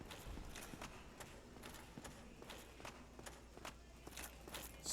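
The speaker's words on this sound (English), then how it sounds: "Something was still stomping around." Heavy footsteps of an unseen creature stomp around in the Dark Souls video game, a steady rhythm of faint thuds repeating about every half second over a quiet ambient bed.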